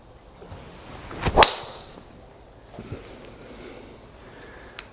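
A Ping G410 LST low-spin driver strikes a golf ball outdoors with a single sharp, loud crack, followed by a faint whoosh and quiet background.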